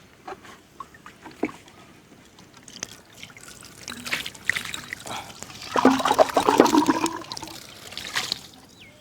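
Water poured over freshly cut bamboo sections being rinsed clean outdoors for village bamboo chicken biryani, a splashing, trickling pour that swells in the middle and tapers off, with scattered knocks and faint voices around it.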